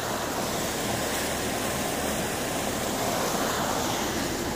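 PBR6827 patrol boat engine churning water at a dock during testing, a loud steady broadband rush of agitated water with a low rumble, continuous and close with no talk.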